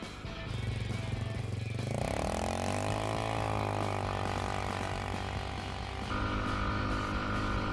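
A cheap 4x4 ATV quad fitted with tracks runs its engine steadily, then revs up into a higher, sustained drone that shifts pitch again near the end. The sound is close and loud, with no speech.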